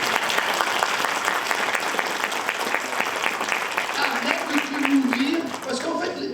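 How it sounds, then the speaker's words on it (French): A church congregation applauds during a worship teaching, with steady, lively clapping from the crowd and voices carrying over it. "Applaudissez le Seigneur, les amis."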